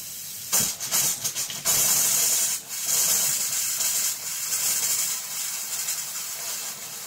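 Faucet running inside a fifth wheel travel trailer during winterizing, a steady hissing rush of water with a few sputtering bursts of air at the start, continuing throughout with no talking.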